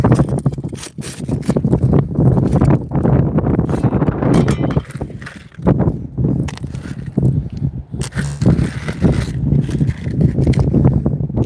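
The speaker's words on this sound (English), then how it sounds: "It's a little windy out, sorry about that." Strong wind buffets the microphone outdoors at a gold-prospecting site in Alaska around midnight, a loud continuous rumbling roar with gusting surges throughout.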